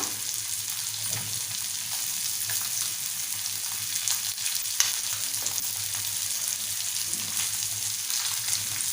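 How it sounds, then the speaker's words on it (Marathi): Mandeli fish frying in oil on a medium flame, a constant dense sizzle with occasional soft pops and a light tap or two, close and steady with no one speaking. "आता मीडियम गॅसवरती एका साईडनं दोन तीन मिनटं फ्राय करून घेऊया आपली मांदेली"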